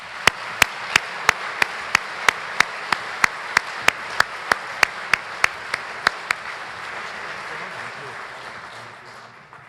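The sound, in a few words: audience applause at a dinner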